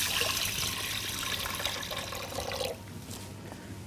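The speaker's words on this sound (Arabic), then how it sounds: "هجيب الرز واجيب الميه واحطه عشان يتسلق" Water poured from a container onto rice in a cooking pot for boiling, a continuous splashing pour lasting a few seconds before cutting off, close and fairly quiet.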